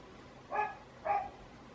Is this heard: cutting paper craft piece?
no